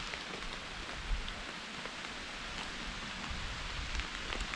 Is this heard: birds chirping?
no